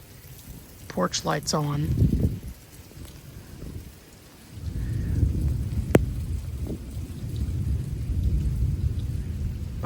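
A severe thunderstorm with heavy downpours and 30 mph gusts rumbles low and steady, with a sharp crack near the middle. A person speaks briefly at the start over the rain.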